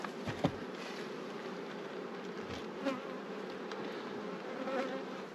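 Honeybees swarm around an opened backyard beehive, making a dense, continuous buzzing drone close by, with individual bees flying past the microphone now and then.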